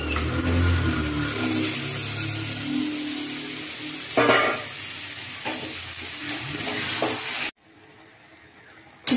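Chicken being stirred with fried spices in a pan, steady loud sizzling with scraping stirs and a few sharp clatters, continuous until it cuts off near the end.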